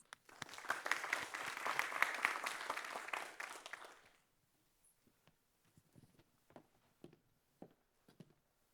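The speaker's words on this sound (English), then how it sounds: "let's give Megan a round of applause." An audience at a scientific conference session applauds loudly for about four seconds, then the clapping dies away, leaving a few scattered claps and faint room sounds.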